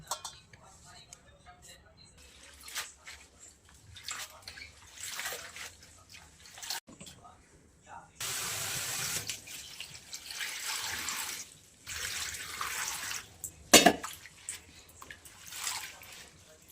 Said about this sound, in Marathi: मस्त एक दोन पाण्याने धुवून घेतली ही